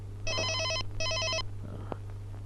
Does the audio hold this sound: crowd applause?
no